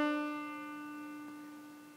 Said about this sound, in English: a strike with my picking finger on the first string, it would sound like this.